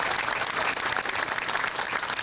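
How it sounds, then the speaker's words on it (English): Applause from the crowd at an outdoor Memorial Day community event, a steady dense clapping that holds evenly for the whole stretch with no voices above it. "give a round of applause to our veterans, to our scouts,"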